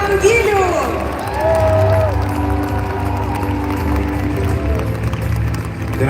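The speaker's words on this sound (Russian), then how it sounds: "Бурные аплодисменты господину Пак Хан Гилю!" A large audience at a corporate success-academy event applauds enthusiastically, a dense wash of clapping and cheering mixed with crowd noise and overlapping voices.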